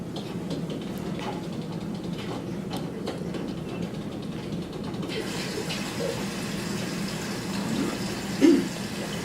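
Water rushes steadily into a Miele Softtronic W3825 washing machine during a rinse, a continuous hiss and gurgle that grows brighter and fuller partway through, close by with no talk.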